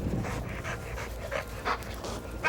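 A dog pants hard and rhythmically at close range while clamping and twisting on a reporter's padded bite-sleeve arm, with faint whimpering breaths between gasps.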